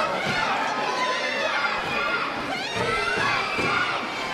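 A wrestling crowd in Lima roars during a cage match, shouting and cheering at a taunting wrestler in a loud, continuous wall of voices with swells of jeers throughout.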